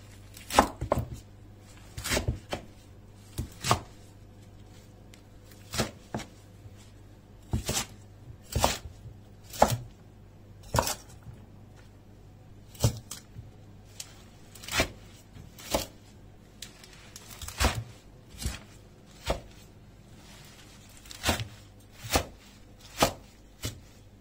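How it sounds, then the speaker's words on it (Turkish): Sharp knife chops on a cutting board through mustard and radish greens, irregular bursts of quick strokes with short pauses between them, close and clear, no talking. "Doğrama işine hemen başlayalım."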